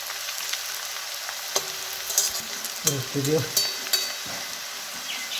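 Okra (bhindi) crisping in hot oil gives a steady, moderately loud sizzle, with a few sharp stirring scrapes and clinks near the middle and no talking.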